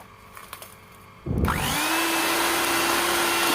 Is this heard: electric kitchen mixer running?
yes